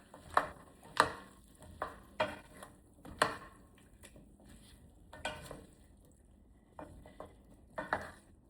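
A stew of crushed tomatoes and butternut squash is stirred in a pot, with a spoon knocking and scraping at uneven intervals, fairly faint, with a soft wet bubbling between strokes.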